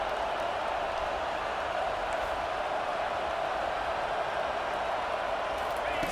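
Stadium crowd noise from an NCAA football video game, a steady dense roar of many voices that holds at an even level throughout, loud and continuous with no distinct cheers standing out.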